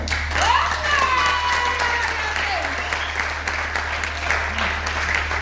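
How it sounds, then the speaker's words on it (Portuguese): A church congregation applauding during a worship service, a sustained wash of steady clapping at moderate loudness, with a voice speaking over it and a low hum beneath. "Pode aplaudir, então."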